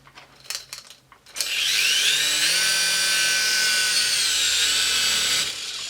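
A small AliExpress toy helicopter switches on after a few clicks and handling noises, and its motor settles into a steady, high-pitched whine that runs close and loud for several seconds before easing off at the end.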